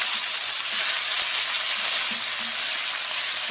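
Scallops searing in a hot pan give off a loud, steady hiss that holds unbroken throughout, heard up close without any voices.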